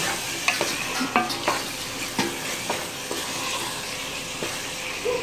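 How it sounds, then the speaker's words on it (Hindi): Minced meat sizzling and frying with tomatoes for kachnar qeema, a spoon scraping and stirring the pan in irregular clanks over a steady close hiss, with no talking. "अब इसको टमाटर के साथ इसको भूनेंगे।"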